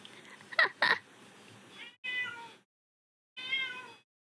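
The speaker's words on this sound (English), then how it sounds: "That's my cat." A cat meowing close by, a quick pair of short cries followed by two longer, drawn-out meows separated by brief silences, with no talk.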